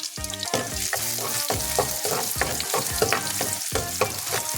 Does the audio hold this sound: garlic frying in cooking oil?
yes